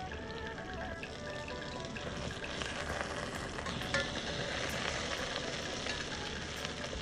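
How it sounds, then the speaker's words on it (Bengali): Pieces of Mrigel fish fry in hot oil in a pan, giving a steady, close crackling sizzle with occasional louder pops, heard alone throughout. "মাছগুলো সুন্দর করে ভেজে নিচ্ছি আমি।"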